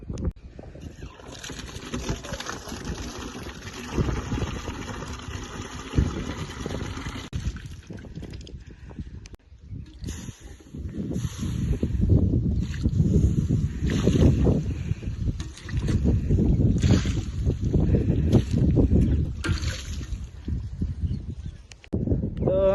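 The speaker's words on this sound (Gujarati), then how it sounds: "મિત્રો ફૂલ તમને વાયરો અંદર સંભળાતો છે ફોનમાં" Strong storm wind gusts through a village, roaring and buffeting close to the microphone in uneven surges that grow louder and heavier through the second half.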